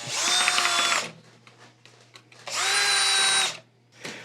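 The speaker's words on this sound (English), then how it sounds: "we're just retightening those screws that we removed to get the arm out" A power drill drives screws back into a skeleton arm in two loud, sustained whirring bursts of about a second each, separated by quiet handling clicks, with a brief third start at the end.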